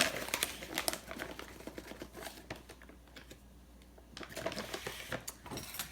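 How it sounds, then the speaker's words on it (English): Flour, sugar, baking powder and salt are sifted together for gluten-free biscuits, making a faint, close, scratchy rattling in uneven bursts with a quieter pause in the middle. "we're going to sift all of our dry ingredients together first"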